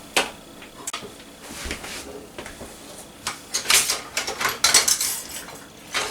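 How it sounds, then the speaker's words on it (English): A spoon stirs seasoned Thanksgiving leftovers in a pot, with scattered metal clinks and scrapes, sparse at first and then quicker and louder toward the end, close by with no talk. "And we'll just give that a little stir here."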